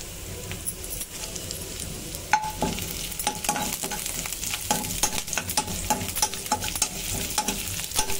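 Garlic, curry leaves and green chilies crackle in hot oil while being stirred, a close sizzle with repeated sharp clicks and pops of a spoon against the pan, busy and uneven, no voices.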